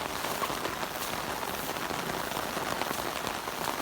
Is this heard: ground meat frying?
no